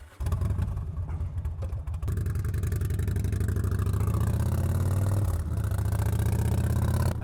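A motorcycle gets underway at the start of a ride from the Sherman Animal Shelter, its engine droning close and steady, with a rising rev after a brief opening burst.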